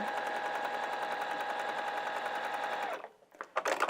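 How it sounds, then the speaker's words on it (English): A sewing machine quilts fabric along a seam line, stitching in a fast, even whir for about three seconds, close and clear, then stopping before a few handling noises. "now this side of the foot is against the seam line, and I'm quilting in the same direction"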